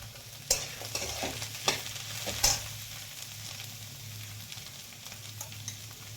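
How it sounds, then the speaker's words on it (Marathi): Chopped greens tipped into reddened fried onions, with a few sharp spoon scrapes and stirs over a soft, steady sizzle. "कांदा चांगला लाल झालाय आता छान परतलाय आपण आता त्याच्यात भाजी टाकून घेऊ त्यात"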